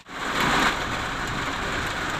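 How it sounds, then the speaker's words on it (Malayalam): Heavy rain, heard from inside a vehicle parked on a road, drums down in a dense, steady roar that starts abruptly and holds loud and unbroken. "അടിപൊളി മഴ"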